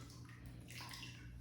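A paintbrush is swished and rinsed in a container of water, giving a soft splashing gurgle that swells midway, heard close with no talk.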